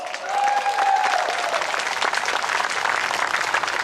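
An outdoor crowd at a public park talk gives itself a round of applause, steady close clapping with a few voices and cheers rising over it.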